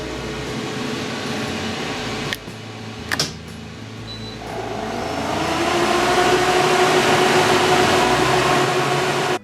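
An xTool P2 laser machine starts up after two brief clicks, then its fans and air assist rise into a loud, steady whirring drone with a tonal whine that carries on to the end.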